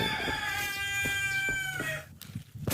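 Laying hens on a farm clucking and calling, with a rooster-like crow rising among overlapping bird voices, close and fairly loud, followed by a few scattered clucks and rustles.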